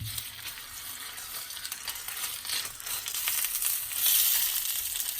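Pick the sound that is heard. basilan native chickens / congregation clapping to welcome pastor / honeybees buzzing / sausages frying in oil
sausages frying in oil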